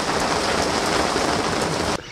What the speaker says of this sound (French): Ah bah ici, quand il pleut.